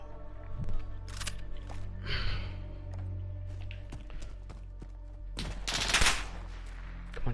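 Gunfire from a video game gun, heard as several rapid bursts of sharp, loud shots with gaps between them, set against a steady low game background.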